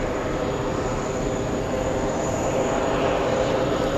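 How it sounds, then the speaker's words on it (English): Spanish Air Force Airbus A310 jet at JFK airport, a steady, loud engine roar with broad rumbling noise that holds constant throughout. "let's zoom into the Spanish A310."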